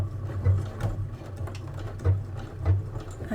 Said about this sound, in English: and then start sewing forwards